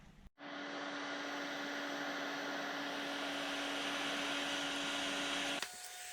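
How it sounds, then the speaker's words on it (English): A heat gun blasts hot air onto wiring during a 1UZ engine swap on a 2003 Hilux, switching on with a steady, loud blowing roar and humming whine that holds evenly before cutting off near the end. "And then we hit that with the heat gun,"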